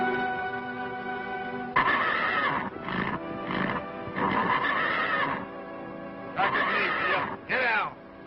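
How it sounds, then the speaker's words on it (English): A horse in an old Western setting neighs and whinnies in several loud, close bursts, with shorter high whinnies near the end over a steady background hum. "Much obliged for the horse, Sunset."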